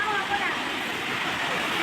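Water rushes continuously toward a waterfall at a Jawadhu Hills tourist spot, a loud, close, broadband roar with no pause.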